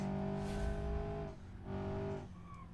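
Tires locking up under braking on an Ibishu 200BX race car in the BeamNG driving game at the Hirochi short track: steady engine drone with two sustained tonal squeals, quiet, no talk.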